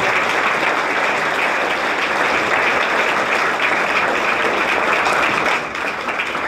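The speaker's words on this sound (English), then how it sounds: "Let's have a round of applause." A loud, full round of applause from a large crowd, dense and continuous at a steady high level before easing slightly in the final second.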